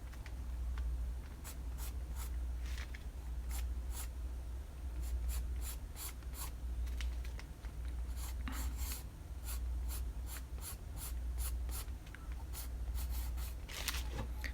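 A medium General's charcoal pencil drawing hair on paper, close and quiet, with repeated short scratchy strokes in an uneven rhythm, bunching into faster bursts in the second half over a low steady hum.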